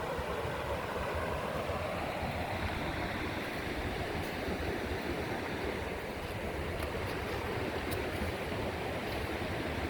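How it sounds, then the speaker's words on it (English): A waterfall pours over bedrock along a gold-prospecting creek, making a loud, steady rushing roar that fills the whole stretch without a break and with no voices. "Right here's the waterfall."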